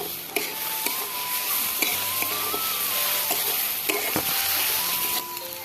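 Ash gourd and egg frying in a pan with ground cumin, a steady hiss of sizzling oil with intermittent scraping and knocking of a spatula stirring, close, with no talk.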